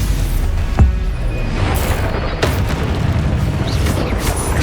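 Spell blasts from Confringo and other combat spells in the Hogwarts Legacy video game, with a sharp boom near the start and further bursts over a steady dense background of game effects.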